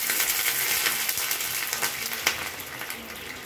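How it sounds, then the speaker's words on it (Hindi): Water hits a hot pan of veg momos, producing a bright, hissing sizzle peppered with small crackles and pops that slowly settle, close up and with no talking. "हमें डायरेक्टली पानी ऐड करेंगे"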